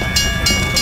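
Train in a video game rumbling past at close range, with repeated clickety-clack bursts on a low steady rumble, loud throughout.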